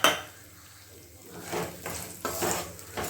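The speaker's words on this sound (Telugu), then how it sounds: "దీన్ని కూడా ఆయిల్లో మంచిగా ఫ్రై చేసేసుకుందాం" Urad dal frying in oil in a pan for lemon rice, heard as faint sizzling under metallic clinks and scrapes of a utensil against the pan, with a sharp knock at the start and stirring bursts toward the end.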